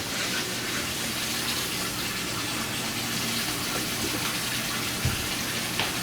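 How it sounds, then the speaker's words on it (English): Warm water runs steadily from a tap into a tray used for cleaning an xTool S1 laser, a continuous close hiss and splash lasting the whole stretch, with a small knock near the end. "we take the tray, get a little bit of warm water"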